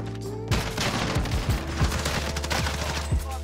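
Rapid bursts of SMG gunfire in a video game, several loud close volleys and single shots over a constant low rumble, with no one speaking during the shooting.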